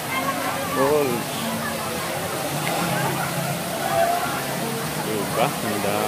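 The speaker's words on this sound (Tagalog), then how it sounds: "Wow! Twin Falls." Kalayaan Twin Falls pours as a steady broadband roar of falling water, with voices talking and exclaiming over it throughout.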